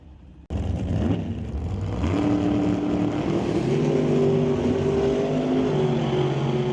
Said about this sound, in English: Andrew Weave rowing through the gears in that little Austin